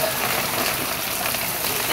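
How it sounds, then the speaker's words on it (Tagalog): Rushing flood water in Agno, Tarlac, a dense, steady broadband wash heard close and continuous, with no voices. "grabing tubig dito. Parang dagat"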